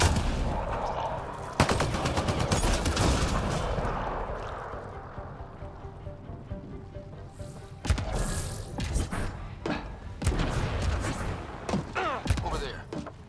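Gunfire in the video game Mass Effect Andromeda, sharp rapid shots and bursts cracking through a steady background of combat noise, with voices talking.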